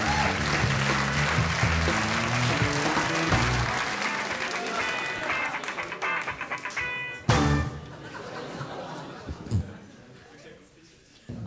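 Comedy club audience at the Comedy Casino Cup applauding loudly for a comedian taking the stage, a sustained wash of clapping with music underneath that thins out toward the end, broken by a few sharp bumps.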